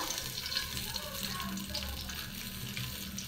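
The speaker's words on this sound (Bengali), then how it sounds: "এখানে দিয়ে দিচ্ছি সামান্য আদা বাটা" Ginger paste fries in hot ghee with bay leaves, a quiet, continuous watery sizzle with low rumbling underneath, fairly faint throughout.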